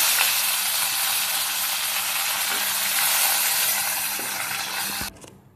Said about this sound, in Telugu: జీలకర్ర ఫ్రై చేసుకొని వీటిని కొంచెం అన్నీ ఫ్రై అయిపోయినాయి. కరివేపాకు